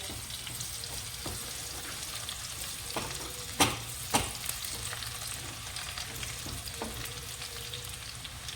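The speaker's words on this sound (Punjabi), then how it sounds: "ਹੁਣ ਆਪਾਂ ਨੇ ਇਹਦੇ ਵਿੱਚ ਲਸਣ ਪਾ ਦਿੱਤਾ ਹੈ ਤੇ ਇਹਨੂੰ ਨਾ ਇਹ ਚੰਗੀ ਤਰ੍ਹਾਂ ਨਾ ਇਹ ਚੰਗੀ ਤਰ੍ਹਾਂ ਪਕਾਵਾਂਗੇ" Garlic frying in a pan for a sarson ka saag tadka gives a steady, close sizzle throughout, with a few sharp metallic clinks and scrapes of stirring.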